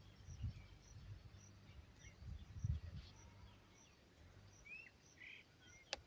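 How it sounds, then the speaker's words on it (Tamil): Faint outdoor calls of crows and sparrows, scattered chirps and a few brief squawks over a low background hum, with occasional soft thumps nearby. "எங்கே பார்த்தா காக்கா குருவி சத்தம் தான் இருக்குது."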